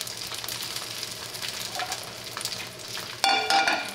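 Bánh xèo batter sizzles and crackles steadily in a hot pan, crisping golden, with a sharper burst of frying noise near the end as it is stirred.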